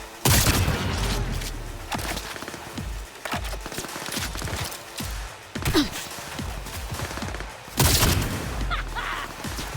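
Gunfire and explosions in the video game Cyberpunk 2077, with sharp shots, heavy booms and a dense fusillade of impacts, loud and close, alongside sighs and gasps from in-game characters.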